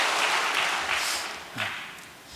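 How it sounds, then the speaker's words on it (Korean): A church congregation claps for its leader: a dense, steady wash of applause from many hands that eases slightly, swells once more and then tapers near the end. "우리 승리하신 참 어머님께 감사의 박수를 다시 한번 보내올리겠습니다"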